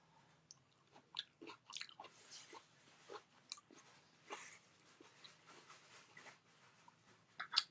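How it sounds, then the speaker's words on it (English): A close, quiet crunch and squish of someone chewing a piece of cooked onion, with irregular bites and smacking mouth sounds over several seconds and no talking. "Gotta taste the onion."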